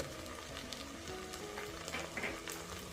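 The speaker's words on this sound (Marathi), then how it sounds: "परतून घेते तेलामध्ये तिखट घातलं की तवण छान येतो" Chili powder sautés in hot oil with a soft, continuous sizzle, broken by a few faint scrapes of stirring. It is quiet and close, with no voices.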